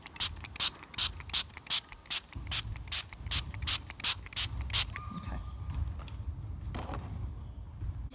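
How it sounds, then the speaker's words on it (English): A spray bottle squirts water repeatedly onto radish microgreens in a quick, even rhythm of about a dozen close pumps, then stops, leaving quiet room noise. "so I'm gonna spray it."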